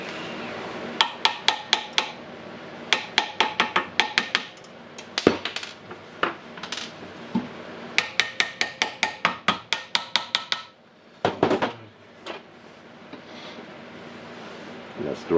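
Rapid series of sharp metallic hammer taps in clustered bursts, hammering a ball into the anvil of a Milwaukee 3/4-inch nut gun, with pauses between groups and a voice speaking at times in the background.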